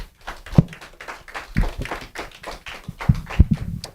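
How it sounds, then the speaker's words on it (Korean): A church congregation claps during a Friday worship service, with irregular taps and thumps spread across the moment rather than a dense ovation, moderately loud and close. "박수로 하나님께 영광 드리겠습니다."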